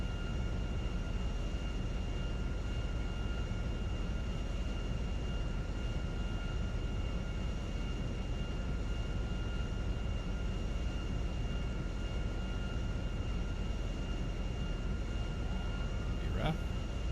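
In GTA V, a Learjet-style airplane descends toward the runway to land. Its engines make a steady, even roar with a faint high tone on top, holding constant throughout.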